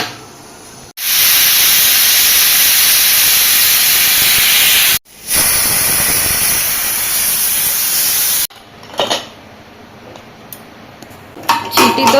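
Pressure cooker whistling loudly while pork curry cooks, two long, steady hissing blasts of steam with a short break between them, followed by quieter clattering and scraping of pots.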